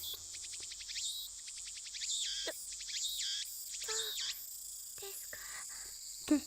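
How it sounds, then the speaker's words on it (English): Cicadas chirp in rapid repeated trills in the video game Steins;Gate, a continuous bright buzzing pulse that fills the scene, with no voices over it. "The only sound is the chirping of cicadas."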